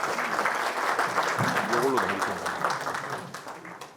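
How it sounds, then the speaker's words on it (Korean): Audience applauding a veterinarian's talk at a swine-farming seminar, a dense steady patter of many hands that fills the room while a voice speaks over it, fading slightly toward the end. "박수 치신 분들 복 많이 받으시기 바랍니다."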